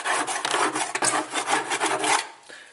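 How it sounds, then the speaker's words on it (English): A tool scrapes along the inner sides and bottom of a washing machine drum, giving a steady rasping, rubbing run of strokes, close and fairly loud, with no talking, fading out at the end. "scrape along the sides. And we'll scrape along the bottom."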